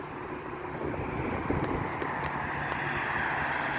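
Steady sea wind blows and buffets the microphone with a broad, rushing roar and no voices.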